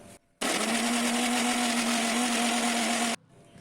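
A mixer grinder blends banana into paste in a small jar, a loud steady motor whine that starts suddenly, holds for about three seconds and then cuts off.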